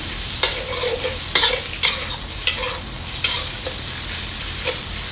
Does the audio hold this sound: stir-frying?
yes